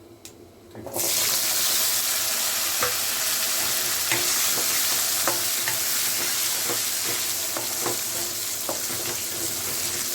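Small shallots with cinnamon, cloves and fennel sautéing in hot oil for an intestine gravy, a steady loud sizzle starting after a quiet first second, with scattered light scrapes of a spoon stirring the pan.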